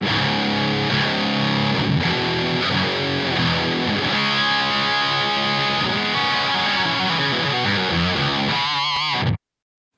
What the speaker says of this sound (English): And then if I go here, that goes to just my distortion.